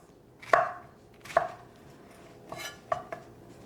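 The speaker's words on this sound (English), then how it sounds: "So I'm just going to give this a little chop." A knife chops food into chunks on a cutting board, four sharp distinct thwacks spaced about a second apart, close and fairly quiet with no talking.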